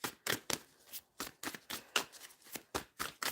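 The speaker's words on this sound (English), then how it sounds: "I'm going to put the phone down and I'm going to shuffle." A deck of cards is shuffled repeatedly nearby, about a dozen crisp riffling bursts in a quick, fairly regular rhythm, with no talking over it.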